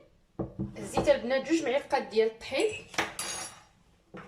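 A spoon clinks against a bowl while stirring flour into a mixture for Moroccan harira soup in a home kitchen, with light scraping taps running under steady talking.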